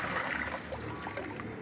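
Water from a clay pot is poured into a pigeons' drinker: a brief, close, steady trickle and splatter.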